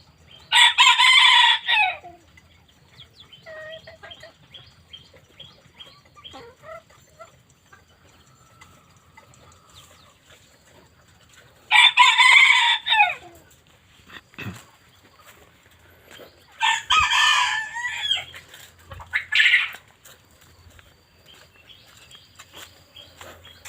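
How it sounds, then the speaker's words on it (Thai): White-eared junglefowl on a farm, several loud crows in separate bursts, the first alone, then another after a long pause and a pair close together, with soft clucking and rustling between them and no talk. "ไก่ป่าหูขาวครับ"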